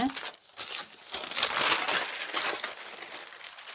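A paper sewing pattern for a high-neck vest is folded along the straight shoulder line, giving close, crisp crinkling and rustling that swells and fades over a few seconds.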